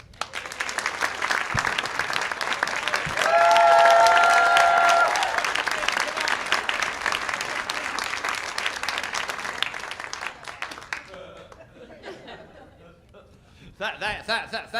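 Audience applause at an evening show greets a performer coming to the microphone, sustained clapping with some laughter and a whistle, gradually thinning before a voice begins to speak near the end.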